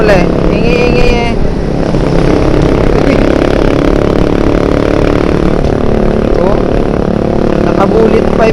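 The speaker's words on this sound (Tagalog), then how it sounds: "Nakabulit pipe pa. Sakit sa tainga eh." A motorcycle with a loud open exhaust pipe rumbles and revs close by on a roadside, its engine noise continuous and harsh under people talking.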